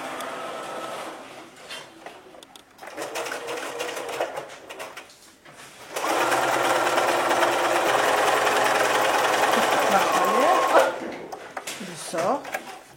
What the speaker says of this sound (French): Je vais coudre le dos de mon vêtement,